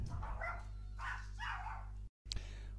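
A dog barks indoors, a few sharp barks in quick succession followed by a brief yip, moderately near and fairly loud, with no talk over it.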